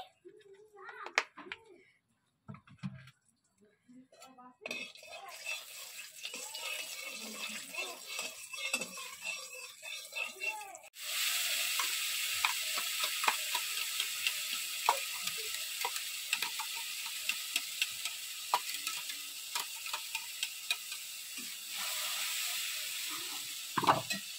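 Potatoes frying and sizzling in oil in a wok for aloo dum, with stirring in a home kitchen; a steady loud sizzle sets in partway through and continues, with scattered clinks and movement.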